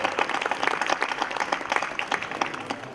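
Audience at a youth conference in Monteodorisio, Abruzzo, applauding in a steady, dense patter of clapping that holds at moderate volume for the whole stretch, with no voices over it.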